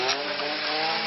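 A chainsaw clearing trees on a cliff, running at a steady high rev with a buzzing, gritty whine, loud and close for its brief length, no speech.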